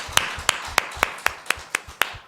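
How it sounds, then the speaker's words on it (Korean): A church congregation claps in unison during Sunday worship, eight crisp, evenly timed beats with a low thump under each, loud and close. "하나님께 영광의 박수 올려드립니다."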